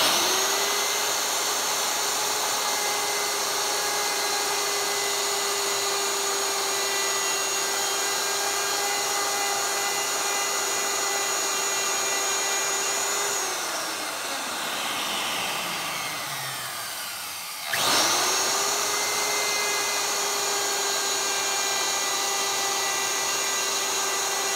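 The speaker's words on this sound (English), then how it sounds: "router out the rest of your sign" A wood router carves letters into a wooden sign, giving a loud, steady high-pitched whine that winds down and stops, then restarts and quickly returns to full speed, with no voices.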